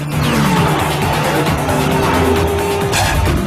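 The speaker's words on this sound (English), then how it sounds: "The 6-litre, 640 horsepower, 12-cylinder engine, though, that works just fine." A VW Golf GTI W12 with a 6-litre, 640-horsepower 12-cylinder engine roars loudly and steadily throughout, with tire squeal and a sharp burst near the end, and no talking.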